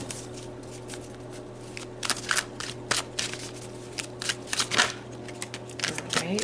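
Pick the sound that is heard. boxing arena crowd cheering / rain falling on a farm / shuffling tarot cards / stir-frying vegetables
shuffling tarot cards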